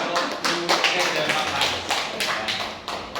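Applause from teachers and staff at a school dissemination session, a run of dense claps across the whole stretch with sharp peaks, fairly close, with faint voices underneath.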